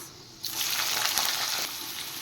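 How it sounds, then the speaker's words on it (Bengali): Chopped beans hit hot oil already holding cashews and raisins, setting off a sudden loud hissing sizzle that holds steady, then eases slightly, alone and close. "এবার আমি দিয়ে দিচ্ছি কেটে রাখা বিনস"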